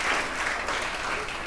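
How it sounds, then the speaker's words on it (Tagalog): Church congregation applauding together, a dense, steady wash of clapping from many hands filling the room for about a second and a half with no speech over it. "The best muna uling palakpak para kay Jesus."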